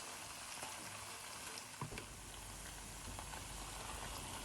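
Fante Fante fisherman's stew frying with tomato paste while being stirred, a steady close sizzle and crackle with occasional soft scrapes of the spoon.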